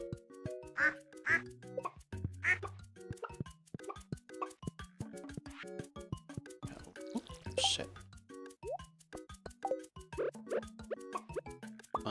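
Cartoonish duck quacks from the Stardew Valley farming game, repeated many times in a busy pattern over plopping, dripping game effects and chiming music notes, with no talking.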